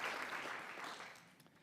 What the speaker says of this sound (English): We can clap for her anyway.